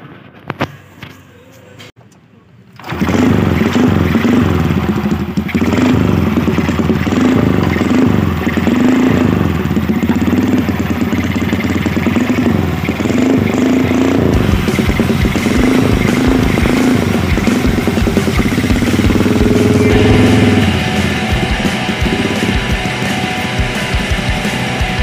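A Yamaha V75 motorcycle engine starts after a few seconds of quiet handling, then runs at a steady, close idle with a constant low hum. The pitch shifts slightly near the end.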